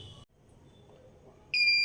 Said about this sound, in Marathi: तर टायमर झाल्यानंतर असा आवाज येतो एक बीपचा.